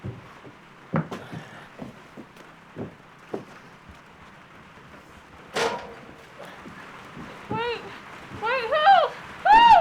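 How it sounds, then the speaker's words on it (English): Heavy rain pours down in a Western setting, a steady wash under scattered thumps and knocks, with people talking and shouting over it. "It's raining like a son of a bitch"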